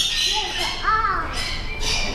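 Birds in a National Aviary hallway squawk loudly in repeated harsh bursts that echo off the walls, mixed with a voice and background chatter.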